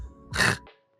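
A person imitates a pet coughing up phlegm: one close, rasping throat-clearing hack heard alone, then a short catch of breath as a second one starts.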